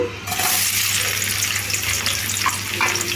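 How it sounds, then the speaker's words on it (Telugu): Thinly sliced onions hit hot oil and fry with a loud, dense, continuous sizzle close up, a steady crackling hiss with a faint underlying hum. "నూనె వేడెక్కింది ఇప్పుడు దీంట్లో సన్నగా కట్ చేసిన ఉల్లిపాయ ముక్కలు అయితే వేసుకుంటున్నాను"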